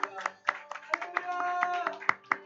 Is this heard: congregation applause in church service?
yes